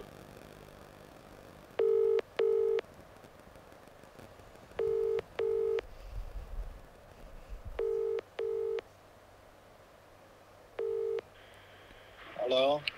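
Push-button telephone dialing, short paired tones repeated in four separate bursts spaced a few seconds apart, loud and clear over a low hum, ahead of a phone call.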